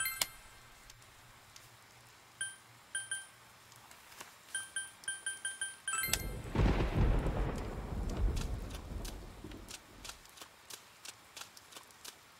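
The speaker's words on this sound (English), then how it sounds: "Love me a good thunderstorm." A thunderstorm in the video game Persona 4 Golden: faint chiming tones and light ticking give way to a loud, rumbling thunder crash that swells and slowly fades into steady rain with scattered clicks.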